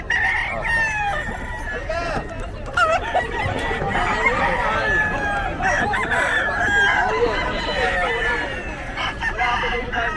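Fighting cocks for sale at a busy Bocaue market crow over and over, with loud, overlapping calls and steady clucking filling the whole stretch, while voices murmur underneath.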